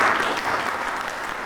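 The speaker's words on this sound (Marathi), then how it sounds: "आपण टाळ्या वाजवून त्यांचं कौतुक करूया" An audience at a community association's annual general meeting breaks into applause, a dense, steady burst of many hands clapping together, loud and close, fading slightly toward the end.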